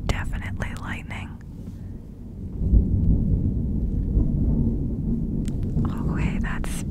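A thunderstorm with rain sends a deep rolling rumble of thunder that swells midway and lingers, beneath soft whispering at the start and end and a steady wash of rain.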